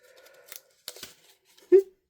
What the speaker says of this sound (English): I might cut a smidgen off the bottom.